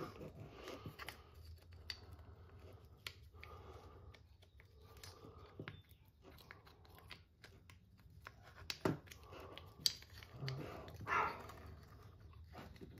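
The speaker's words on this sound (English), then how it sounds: "My dog barking." A dog barks faintly and intermittently in the background, sporadic short yelps scattered over a quiet room with no talking.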